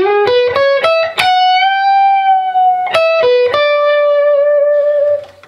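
An electric guitar plays a fast solo lick of quick rising notes, then a long sustained note shaken with whammy bar vibrato, repeated once, loud and distorted with no talking.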